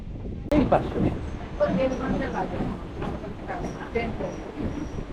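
A passenger train pulling into Chandpara station on the Benapole–Kolkata line, with a steady rumbling, rattling carriage noise and faint wheel clatter under people talking nearby.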